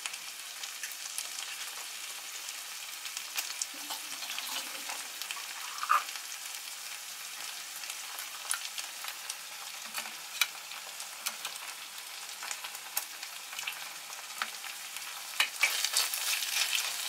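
Peruvian empanada beef filling with sliced black olives sautés in a pan, giving a quiet, even crackling sizzle with faint pops throughout and no talking.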